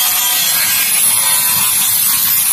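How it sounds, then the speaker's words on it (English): A power grinder cutting during the building of a Christmas tree on a beach, a loud continuous harsh whine and rasp held steadily throughout before cutting off abruptly at the end. "Boys found out that the grinder will be faster, so now this is what we're doing."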